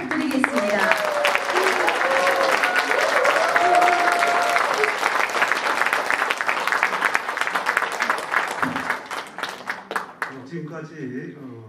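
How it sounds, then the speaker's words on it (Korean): A concert audience with an orchestra on stage claps loudly and continuously for about ten seconds before the applause fades and a voice begins speaking. "여러분 우리와 같은 박수 부탁드리겠습니다"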